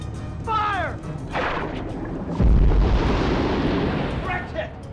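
A film torpedo launch and strike: a whooshing release, then a heavy booming explosion with rumbling debris, with brief voices and effects around it.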